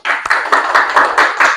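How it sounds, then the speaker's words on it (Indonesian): Classroom students clapping together for presenting groups, loud and close, a steady run of rhythmic hand claps in even bursts lasting just over a second. "Beri tepuk tangan untuk semua kelompoknya."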